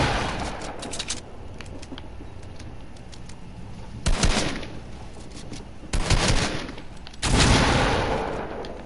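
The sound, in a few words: gunfire in a video game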